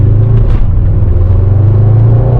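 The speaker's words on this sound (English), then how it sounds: "4-liter twin turbo V8, 600 horsepower. Sounds beautiful." Deep, loud, steady rumble from a 2021 Mercedes E63s AMG wagon's 4-liter twin-turbo V8 at light throttle, heard close and without talk.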